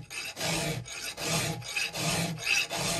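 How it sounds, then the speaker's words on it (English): A hand file rasps along a burr on a Husky 2101 chainsaw part, making five or six steady back-and-forth strokes, close and fairly loud with short pauses between them. "how we get rid of the burr is we just sit up on the file a little bit"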